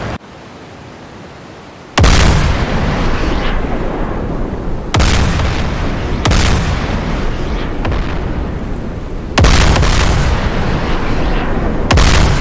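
Supersonic P-500 anti-ship missiles launching in a naval battle video game: a string of loud, booming launch blasts, each sudden onset followed by a sustained roaring rumble, repeating several times with no speech.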